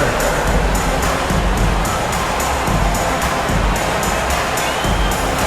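A large arena crowd in the NBA 2K25 video game roars and cheers steadily at a Knicks home game, a dense wall of noise with rhythmic thumps underneath, loud and continuous throughout.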